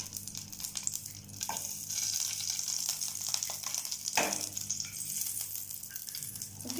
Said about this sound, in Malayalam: പാൻ ചൂടായിട്ടുണ്ട്, നമുക്ക് നെയ്യ് ഒഴിക്കാം